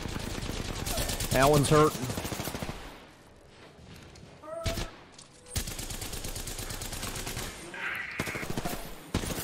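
Gunfire in the Apex Legends video game comes in rapid automatic bursts, loud and close, broken by quieter pauses, while a player speaks briefly over it.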